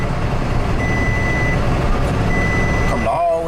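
A truck that had run off the road backs up along the roadway, its steady reversing beeps sounding over a continuous rumbling engine, with a brief voice near the end.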